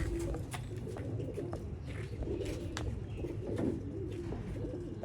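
Kuwaiti teddy pigeons coo in low, rolling calls, close and continuous, over a steady background of other birds and ambient noise.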